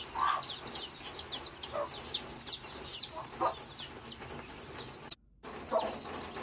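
Desi chickens cluck and peep in quick, repeated bursts on a poultry farm, fairly close, with a brief cut of silence near the end.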